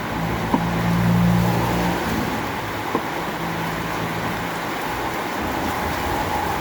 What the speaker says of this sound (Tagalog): Lakas ng ulan guys. Rinig mo yung yero.